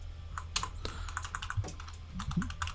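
Someone types quickly on a computer keyboard, the clicks and clacks close and irregular, with brief pauses between bursts and no voices.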